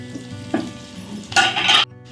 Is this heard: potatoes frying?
yes